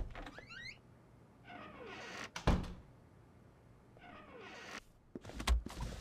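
A door swings shut in the stealth game Unheard, a single sharp thud landing mid-clip between stretches of quiet room tone and faint shuffling, with another knock-like sound near the end.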